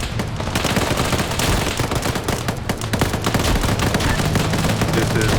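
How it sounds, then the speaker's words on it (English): Sustained gunfire in a military operation video game, with rapid bursts and volleys cracking continuously and loudly throughout, suggesting several weapons firing at once in a dense exchange. "Charlie's taking fire."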